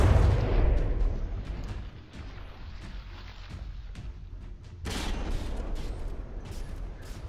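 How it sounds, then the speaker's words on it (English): A large cannon barrel firing during a From the Depths battle, heard as a run of heavy booms and rumbling blasts, with a louder burst partway through, continuing over a dense rumbling bed of battle noise. "that big barrel there is still firing"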